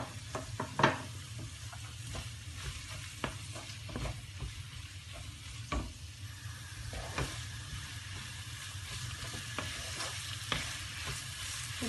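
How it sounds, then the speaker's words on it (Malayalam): Tomato sautés in a pan with a faint, steady sizzle, punctuated by short clicking and scraping taps from stirring at irregular intervals, quiet and close with no speech. "അത് ഇതിലേക്ക് വഴന്നു വരാനായിട്ട് ചേർക്കുക."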